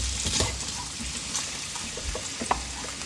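Vegetables and sausage links sauté in a hot pan, giving a steady soft sizzle and frying crackle with occasional light stirring clicks, moderately quiet and close.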